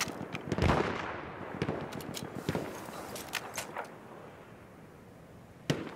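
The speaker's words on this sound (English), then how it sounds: "I just get hit by a sniper" Sniper rifle fire in the video game Battlefield 1, a few sharp shots and cracks amid battlefield noise, one loud report near the start and another isolated shot at the end.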